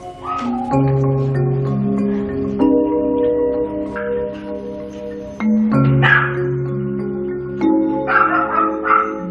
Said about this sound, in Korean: 누군가 초인종을 누르자 극도로 불안해하며 하울링을 시작합니다